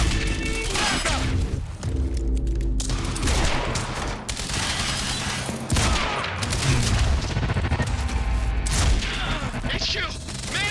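Quantum Break shootout: bursts of gunfire and heavy impacts crackle throughout, loud and close, mixed with shouting voices and game sound effects.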